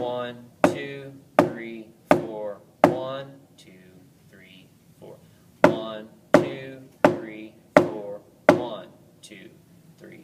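Snare drum beginning band exercise in quarter and whole note strokes: sharp, evenly spaced hits come in short groups of four or five, separated by a pause, while a voice counts along steadily.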